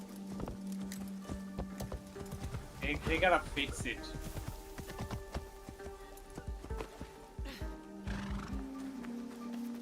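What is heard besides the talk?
horse neighing and hooves in Assassin's Creed Shadows video game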